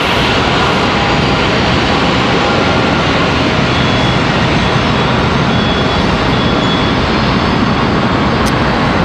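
Air Canada and WestJet jets pass one another on the ground at Raleigh-Durham International Airport, their engines making a loud, steady, broadband roar that fills the whole stretch without letup.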